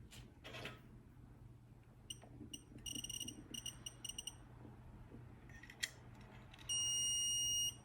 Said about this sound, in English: it reached the alarm, the danger level